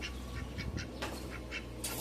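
Several ducks give repeated raspy quacks in quick succession, moderately near, over a constant low background hum.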